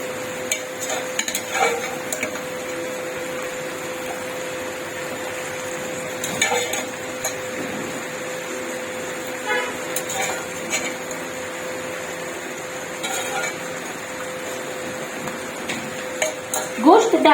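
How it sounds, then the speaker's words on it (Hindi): Boiled meat being stirred into thick gravy in a cooking pot for a lobia gosht dish, with scattered scraping and clinking of a spoon against the pot over a steady background hum. "अब हम इसमें गोश्त डाल देंगे जो कि हमने बॉईल किया था।"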